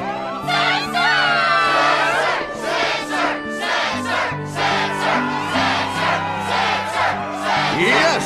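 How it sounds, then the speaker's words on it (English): A crowd cheers and shouts in bursts over background music at a Struggle match in Kingdom Hearts 2, loud and energetic, with whoops rising and falling throughout. "The crowd is fired up"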